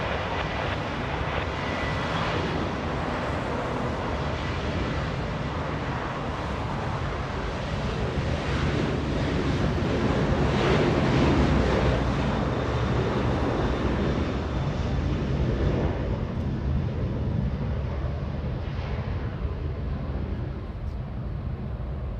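Delta jet airliner powering up for takeoff at Los Angeles International Airport, a broad, steady roar of engines with wind noise, loud and sustained, swelling slightly midway and holding.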